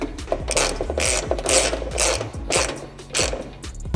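A hand ratchet clicks in quick, uneven bursts while bolting a car's AC condenser back onto a new radiator, close up and alone with no talking.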